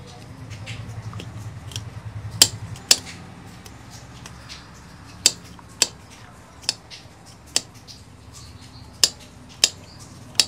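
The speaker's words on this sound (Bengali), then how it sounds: "রসুন কুচিয়ে নিচ্ছি" A knife chops garlic on a board in a kitchen, making a slow, regular series of crisp, close taps about a second apart over a quiet background.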